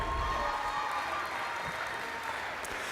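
Guests at a school sports banquet give a round of applause, steady clapping from a roomful of people at moderate distance, fairly even throughout with a slight crowd murmur and no distinct speech.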